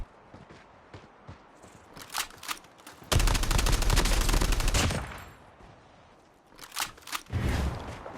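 Shotgun hip-fire in a mobile shooter video game: a few separated blasts, then a dense rapid burst of shots lasting nearly two seconds, later more bursts mixed with footstep-like taps, loud and close.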